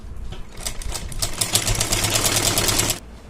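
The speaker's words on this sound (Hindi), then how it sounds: "आप इस तरीके से इस पे सिलाई लगाएंगे" A sewing machine stitches a fine, narrow seam on a sleeve or trouser hem, a close rapid clatter running steadily for about three seconds before it stops.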